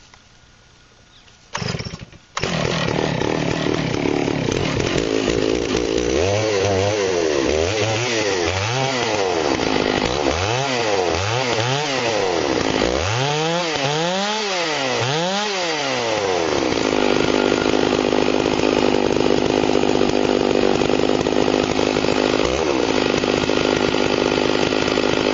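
A chainsaw mill cuts wood into 4x4 beams. The engine starts with a sharp pop, then loud, steady, close sawing runs throughout, with repeated revving swells in the middle before settling into a continuous cutting drone.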